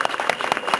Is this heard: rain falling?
no